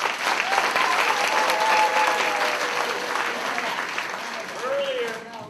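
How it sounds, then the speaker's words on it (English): Steady, dense applause from an audience at a first-grade school assembly, loud and sustained throughout, slowly tapering near the end, with a voice faintly heard within it. "So let's give them a round of applause."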